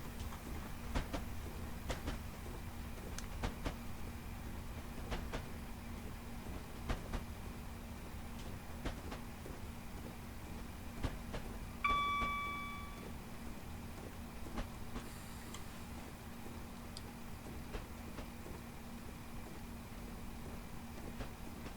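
A passenger train on the Fife Circle Line between Edinburgh Waverley and Cowdenbeath in Train Simulator 2021 rolls into a platform, a steady low rumble with rhythmic clicks over the rails and a brief tonal chime midway, no talking.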